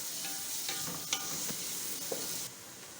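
Onions fry in a pan, softening rather than browning, giving a steady close sizzle with a few stirring scrapes and light pops, and the hiss dips slightly near the end.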